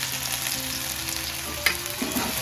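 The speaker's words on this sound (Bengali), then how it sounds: "তেলটা আমার গরম হয়ে গেছে, আর এর মধ্যে আমি ওই আদা রসুন যে কুচি করেছিলাম সেটা দিয়ে দিলাম।" Chopped ginger and garlic dropped into hot oil for chilli chicken hiss in a loud, dense sizzle that holds steady from start to finish, with a couple of small clinks near the end and no voices.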